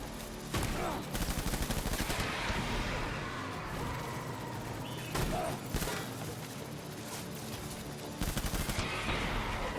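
Loud video-game gunfire in Death Stranding Director's Cut: sustained rapid automatic bursts from heavy weapons, dense and continuous with a few sharper blasts breaking through.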